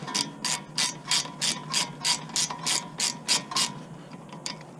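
A ratchet loosens brake bolts on a 1994 Acura Integra during a brake and rotor job, giving about a dozen quick, evenly spaced clicking strokes close by with no talking.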